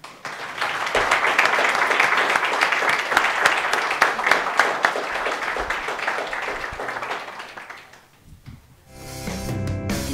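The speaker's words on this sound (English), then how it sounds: "Please give these guys a round of applause." An audience at the end of a debate on gay marriage applauds, a dense burst of clapping sustained for about eight seconds before fading, followed by a brief quieter stretch and a faint voice.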